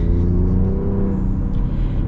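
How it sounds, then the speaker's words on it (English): A Ford Ranger Raptor V6 engine holds a loud, deep, steady rumble close up, easing slightly midway but staying continuous, with no talking. "Objectively, the Ranger Raptor has a cooler engine. It's, you know, a V6 versus a 4-cylinder."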